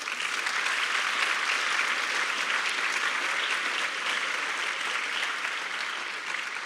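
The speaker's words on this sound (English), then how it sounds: "Let's give them a round of applause." An audience at a symposium plenary session applauds its panelists, a steady, even wash of clapping that holds at moderate loudness for several seconds before easing slightly at the end.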